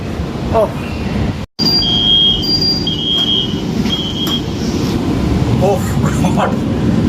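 The 13152 Jammu Tawi Express rolls along with a steady, loud rumble of wheels on track, high metallic squeals rising and falling over it, and a brief dropout early on; voices are mixed in.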